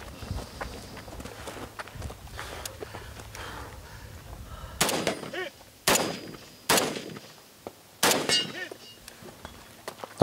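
An L1A1 SLR rifle fires on a competition shooting stage at Finnish Brutality 2023. Four loud, sharp reports come about a second apart, after close rustling movement and footsteps.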